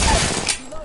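Gunfire from the video game Apex Legends comes as a quick, loud burst of several sharp shots at the start and then fades.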